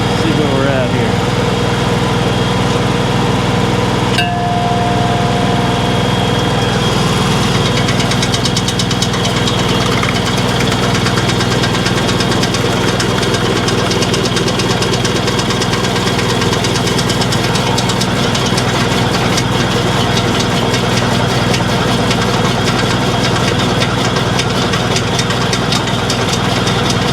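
Mech Maxx SG-24 stump grinder running steadily in low gear, a loud continuous small-engine roar with rattling vibration throughout and a voice talking over it.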